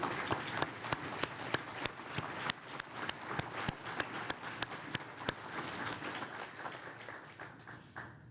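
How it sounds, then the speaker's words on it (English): Audience at an awards ceremony applauds the standing leadership team, cabinet and staff, a sustained round of clapping with sharp individual claps standing out, steady and fairly close before tapering off at the end. "Let us give you a round of applause."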